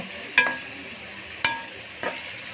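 Chicken frying golden brown in a karahi, a soft steady sizzle broken by three sharp metallic scrapes of stirring, close up with no talking.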